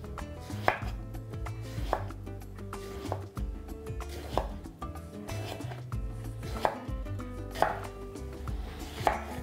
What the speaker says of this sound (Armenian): Սմբուկը կտրատում ենք տափողակների։